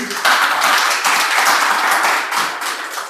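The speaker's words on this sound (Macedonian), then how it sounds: "ќе ве замолам со еден огромен аплауз да го поздравите вашиот заедник" An audience applauds at the opening of the international Lesnovo art colony, a steady wash of many hands clapping for about three seconds, with no speech over it.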